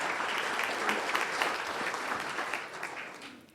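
An audience at a myeloma support event claps steadily for several seconds, a dense and fairly even applause that slowly fades toward the end.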